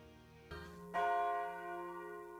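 Opening of a song: a soft sustained tone, then a bell-like chime rings out and holds, ringing and decaying slowly, fairly quiet and with no voice.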